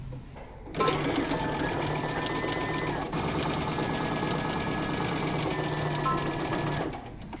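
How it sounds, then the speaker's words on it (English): Sewing machine running steadily for about six seconds, stitching the front and back shoulder pieces of a jacket together along a 5/8-inch seam allowance, with a continuous loud motor whir and rapid needle chatter. "we're going to stitch our front shoulder to our back shoulder, aligning notches, sewing 5/8 of an inch seam allowance"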